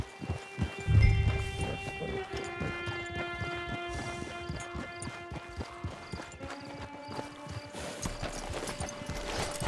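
Steady clip-clop of horse hooves trotting at an even pace in the video game Red Dead Online, with a brief low snort near the start and soft ambient music underneath.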